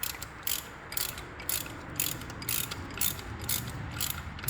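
A ratchet wrench clicks in quick repeated bursts while loosening bolts on the steel leaf spring of a 1969 Corvette's differential, crisp and close with short pauses between strokes.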